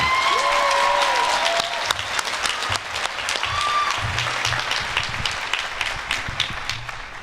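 Audience at the Cowell College 2024 commencement ceremony at UC Santa Cruz welcomes a speaker with sustained loud applause, dense clapping continuing steadily and fading slightly toward the end.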